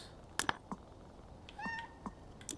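Cats meow in the video game PowerWash Simulator 2: a few short, bright mews close by, then a longer rising-and-falling meow, with small clicks and soft game ambience around them.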